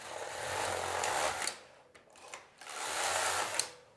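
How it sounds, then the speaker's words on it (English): A Passap Duomatic 80 knitting machine knits two rows, the carriage making two long whirring, rasping passes close by, separated by a brief pause with a soft clunk, with no talking. "And now I'm going to knit 2 rows and that equals 1 round of circular knitting."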